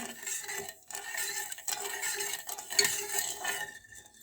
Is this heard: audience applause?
no